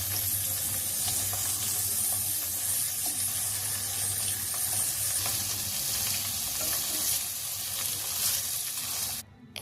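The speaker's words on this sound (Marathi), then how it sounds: "कढईमध्ये तेल टाकायचं आहे आणि पनीर फ्राय करून घ्यायचं आहे" Paneer frying in oil in a kadhai, a steady, close hiss and crackle of sizzling that holds for about nine seconds before cutting off abruptly at the end.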